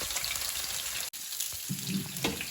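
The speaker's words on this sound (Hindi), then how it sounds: "पहले मैं ये 2 पीस रह गए वो भी फ्राई कर लूँ" Fish pieces sizzle and crackle steadily in a frying pan, a continuous close fry noise with a momentary break partway through and a low clatter near the end.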